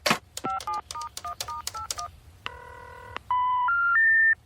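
A telephone in The Simpsons being dialed: a quick run of about a dozen touch-tone beeps, then a long steady ringback tone and a short rising three-note signal, clean and close with no talk.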